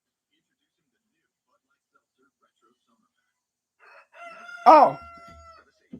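A rooster crows once outside, a single fairly clear cock-a-doodle-doo rising out of near silence, with a brief exclamation from a person just before it.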